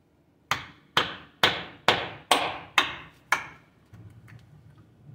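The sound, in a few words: hammer driving screwdriver through car oil filter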